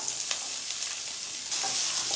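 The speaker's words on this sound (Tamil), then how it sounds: "வெங்காயம் சேர்த்து நல்லா ஒரு அளவுக்கு வதக்கி விட்டுருங்க" Steady hiss of chopped onions frying in a pan, with a louder burst of sizzle partway through and a few faint stirring clicks; no voices.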